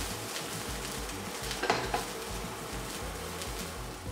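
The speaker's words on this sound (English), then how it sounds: "you want to add one garlic clove and then fry that for a further 30 seconds" Onion and a garlic clove fry in a pan with a soft, steady sizzle, broken by a brief clatter of utensil against pan partway through.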